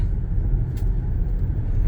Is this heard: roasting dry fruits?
no